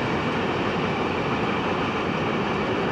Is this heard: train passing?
yes